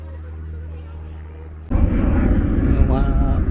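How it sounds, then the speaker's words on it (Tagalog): Aircraft engine roar rising suddenly to a loud, steady broadband rumble at a UK stately home's grounds, passing overhead and dominating the rest of the clip. "Dumadang aeroplano pa rin ito mga kabreks."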